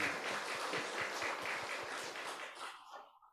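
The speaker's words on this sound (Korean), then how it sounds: "하나님께 영광의 박수 한번 치겠습니다." A church congregation claps together during a worship service, a dense wash of rhythmic applause with steady beats that fades out toward the end.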